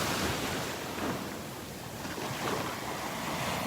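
Surf rolls steadily onto the sand at Delnor-Wiggins beach, a continuous broad wash of breaking waves with some wind rumbling across the microphone, no voices present.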